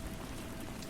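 Steady rainfall, a dense even hiss of falling rain filling the whole moment with no pauses and no voices.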